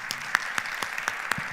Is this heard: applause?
yes